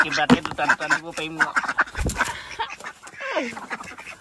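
Ducks quack in quick repeated bursts during duck-catching practice for the Magh Bihu Uruka feast, loud and near, mixed with people talking.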